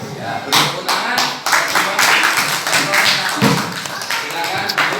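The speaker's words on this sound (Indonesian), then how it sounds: "Ya, beri tepuk tangan." Clapping from a classroom group after a presentation, a close burst of hand claps that thickens and keeps going with an uneven rhythm.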